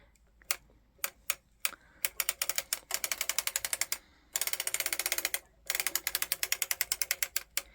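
A circular sock knitting machine cranked by hand, its needles clacking in fast, close rattling bursts of rapid ticks, pausing briefly between runs.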